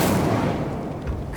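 In the Hogwarts Legacy video game, an Incendio fire spell gives a brief, dense whooshing burst of flame that holds steady for about a second and a half.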